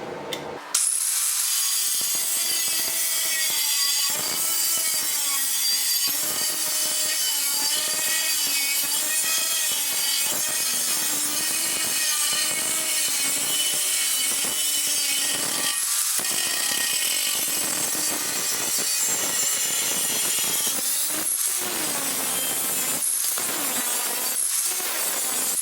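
A saw slices through a 1/8-inch-thick steel piece, cut to about 7.5 inches long, with a steady, loud rasping stroke that carries without a break for the whole stretch and has no talk over it.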